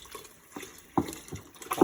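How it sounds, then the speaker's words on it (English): Water added from a container into a pot of homemade chicken soup in a home kitchen, heard as several short splashing pours in quick succession, close and moderately loud, with no talking. "So I'm just going to add some water in there."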